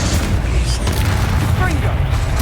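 Explosive Bombarda spell blasts strike a troll during Hogwarts Legacy combat, loud rumbling booms layered with dense battle noise while a voice talks over the fighting.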